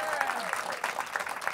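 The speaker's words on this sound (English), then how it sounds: "give Tyler a round of applause for being here with me" Audience clapping at a live private concert, a short burst of applause with a little crowd noise, fairly close and steady for under two seconds.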